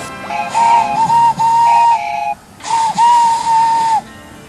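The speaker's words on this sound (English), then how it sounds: "Everyone knew that whistle" A steam train's whistle sounds loud and close in two long, steady blasts with a brief gap between them, each accompanied by a breathy hiss.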